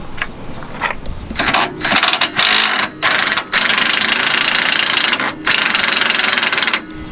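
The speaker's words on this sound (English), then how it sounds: "Just throw the impact on here." Impact wrench zipping a 17mm nut off the rear suspension of a Hyundai Genesis Coupe during a lowering spring install, loud, close bursts of buzzing hammering separated by brief pauses, with no talking.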